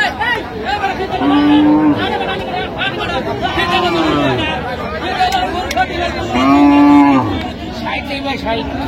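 Cattle moo repeatedly at a rural cow and calf market in Aftabganj, Dinajpur, with several drawn-out calls, some near and loud, rising over steady crowd chatter and bargaining voices.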